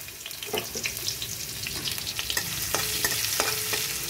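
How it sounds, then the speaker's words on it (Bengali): Garlic frying in a little oil in a pan, a steady close sizzle with occasional scraping stirs from a utensil, no voices. "দেখুন রসুনটা দিয়ে দিলাম।"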